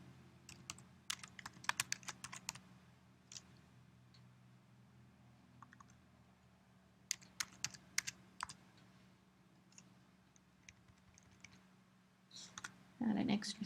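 Light clicks from a computer keyboard come in scattered bursts of quick taps with pauses between them, over a low steady hum and then a brief louder rustle at the end.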